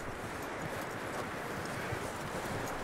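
Horse hooves trudging through thick snow in Red Dead Redemption 2, a steady muffled crunching clip-clop of walking steps against a constant wintry background, heard alone without talk.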